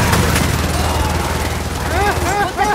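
Rapid automatic gunfire in a multiplayer Gears of War 4 match, a dense rattling burst under a voice and other game sounds.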